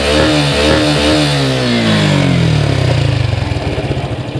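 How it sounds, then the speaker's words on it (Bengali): A Suzuki Gixxer single-cylinder motorcycle, after its air filter was uncovered, revs loudly up close, the engine pitch rising and falling then settling into a throbbing, pulsing idle. "তো এখন যদি আমি বাইকটা টানি তাহলে দেখুন"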